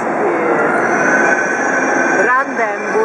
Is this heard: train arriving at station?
yes